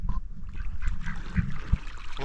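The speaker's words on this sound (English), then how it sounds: "Bad old goose, run him off." At Fishpond Lake in Jenkins, Kentucky, a goose honks a few short times, loud and close, amid waterside chatter of other waterfowl.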